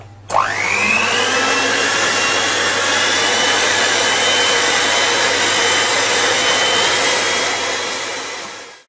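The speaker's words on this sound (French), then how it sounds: "avec votre batteur électrique, c'est parti jusqu'à l'obtention d'une mousse de crème fraîche" An electric hand mixer whipping crème fraîche into a mousse for a strawberry pastry cake, starting up with a rising whine and then running as a loud, steady motor drone for several seconds before easing off.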